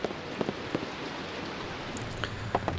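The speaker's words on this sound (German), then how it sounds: "Und es regnet überall auf das Haus. Man hört es an vielen Stellen." Steady rain pattering on a house in the video game Clive Barker's Undying, a soft, even wash of drops with a few sharper taps standing out, heard alone without voices.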